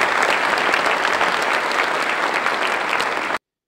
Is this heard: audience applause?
yes